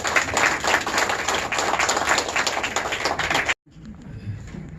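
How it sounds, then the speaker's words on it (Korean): Audience applause at a Korean forum gathering, steady continuous clapping that fills the room for about three and a half seconds and then cuts off abruptly, followed by quiet room noise and faint murmuring. "박수 한번 주십시오."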